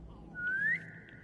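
In the game Assassin's Creed Chronicles: China, a character gives a single short rising whistle, clear and fairly close, lasting under half a second over quiet background.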